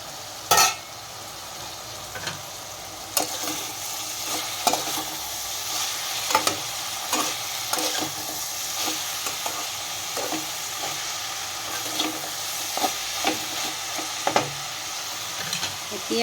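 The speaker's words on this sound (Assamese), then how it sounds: "এতিয়া এইখিনি আমি ভালকৈ ঢাকন মাৰি প্ৰায় 15-20 মিনিট সময় এনেকৈ কম জুইত ভাজি থাকিব লাগিব।" Chicken fries on low heat in a pan, a steady soft sizzle running throughout with repeated sharp scraping clicks of stirring at irregular intervals, close and moderately loud, no voices.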